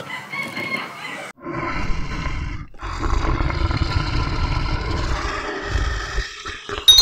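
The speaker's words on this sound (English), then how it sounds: "Wow, nice lion." A lion roars in a long, deep, rumbling call that swells and holds for several seconds after a short opening growl.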